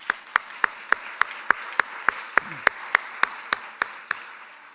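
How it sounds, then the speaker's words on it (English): A single person clapping at a business conference opening session, about fifteen evenly spaced sharp claps over faint room murmur. "Round of applause, please."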